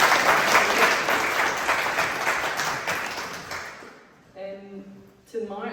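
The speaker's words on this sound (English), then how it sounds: "Round of applause for the Keep Fit class." A room full of people applauds the Keep Fit class at a book launch event. The dense clapping runs for about four seconds and fades, then a voice starts talking.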